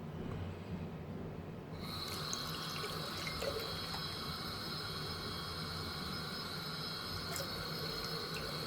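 Tap water runs into a container of gel balls for a gel ball shooter, a steady hissing fill with a faint whine that holds for several seconds after a brief quieter start.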